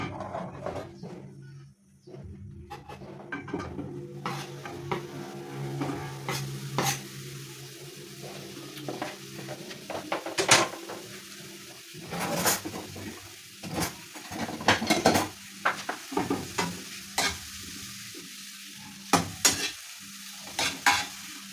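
Cooking oil and butter sizzle in a pan close up, a steady frying hiss with occasional stirring scrapes and clinks, no voices over it.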